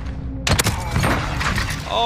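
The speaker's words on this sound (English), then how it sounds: "Classic explosion!" An explosion in an online first-person shooter game, a sudden loud blast followed by a rattling burst of crashing, debris-like noise, dense and close with other game sounds around it.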